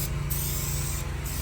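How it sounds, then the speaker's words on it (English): Spray paint hissing in a steady continuous burst from an aerosol can during a house renovation, a light even coat applied at close range with no pauses and no talking. "We're just gonna lightly spray paint so that it looks cleaner and better."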